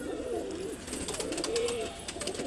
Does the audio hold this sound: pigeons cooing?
yes